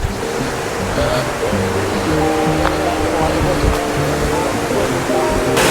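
Steady roaring rush of Rani Duduma waterfall in Odisha fills the scene, broad and continuous, with a faint murmur of voices and some tonal music-like sounds underneath.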